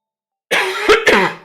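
A person clears their throat and coughs twice in quick succession, close and loud, after a moment of silence.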